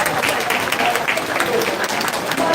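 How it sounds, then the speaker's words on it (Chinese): A crowd at a Lunar New Year community gathering applauds, a thick, continuous patter of many hands that stays steady and loud the whole way through, with some voices mixed in. "掌声欢迎"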